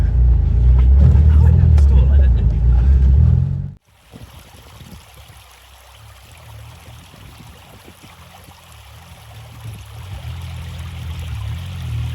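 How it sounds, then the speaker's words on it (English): A petrol engine rumbles loudly and steadily up close for a few seconds, then cuts out sharply, leaving a quieter, uneven low hum behind. "Petrol engine, baby."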